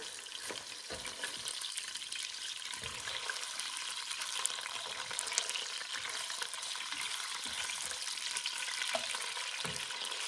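Meat for green chili fries in a pan, a continuous bright sizzle and crackle at moderate distance, steady throughout with occasional soft knocks and stirring thumps from the cook working at the station.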